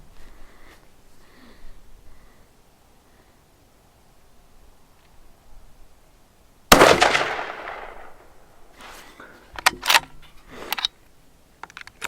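A single sharp, loud 6.5 PRC rifle gunshot cracks out of a quiet outdoor setting, followed by a decaying rumble and a few scattered clicks and handling noises.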